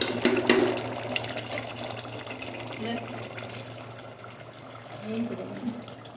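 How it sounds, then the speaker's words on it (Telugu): Water splashes and pours into a pot of mutton paya with a steady liquid rush, loudest at the start, while a low mechanical hum runs underneath and a voice speaks faintly. "వాటర్ ఫ్రెండ్స్, వాటర్ వేస్తుంది."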